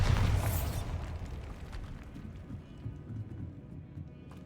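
A Bombarda blasting spell goes off in Hogwarts Legacy, opening with a loud bright burst that decays into a rumbling, crackling tail of debris lasting several seconds.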